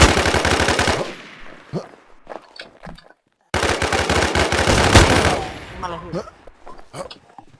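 Rapid automatic gunfire from the survival shooter Infestation: The New Z rattles loudly in long sustained bursts, broken by a short silent gap, with someone talking in Thai around the shooting.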